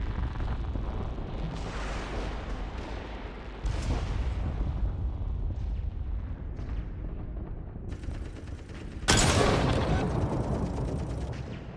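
Tyranid battle scene of artillery and heavy weapons fire: dense rumbling blasts and rattling gunfire pile up continuously, loud and chaotic, with a sharp explosive burst near the end.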